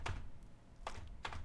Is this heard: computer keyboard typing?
yes